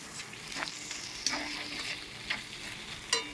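Spices with Kashmiri red chili powder fry in a pan for a stingray curry, a steady close sizzle broken by a few brief scraping stirs.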